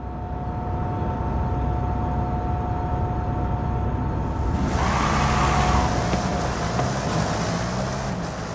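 Brocky vehicle accelerating in a video game, a steady loud engine drone running throughout, with a sharper, brighter surge of power taking over partway through and holding to the end.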